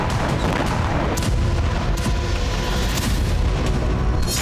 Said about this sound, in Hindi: फाब 500 बम से डोनेस्क में यूक्रेन ठिकानों को नष्ट किया जा रहा है।